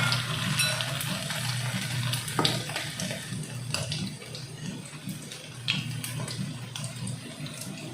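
Veg cutlets fry in hot oil, a crackling sizzle with scattered pops and spits over a steady low background, fairly close and without voices.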